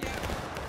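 A musket volley in the Civil War shooter War of Rights, a brief dense burst of many rifles firing together in one rolling crack.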